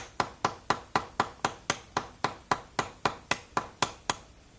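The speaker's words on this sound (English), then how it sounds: "Peen over the edges of the rivet lightly at first to get it to stay put. Then give it firmer taps as it crowns." A hammer peens over the edges of a rivet in boat building, tapping in a steady, even rhythm of about fourteen crisp close strikes with no voices.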